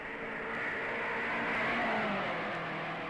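Race cars at the 1955 Indianapolis 500 roar past in a sustained, fairly distant engine drone that swells slightly mid-pass and then holds steady, with no voices.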